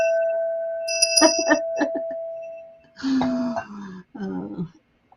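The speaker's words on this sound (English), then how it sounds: "Do I need to ring a bell?" A small bell rings several times in quick, bright strikes with a sustained ringing tone, then fades as voices talk nearby over the last few seconds.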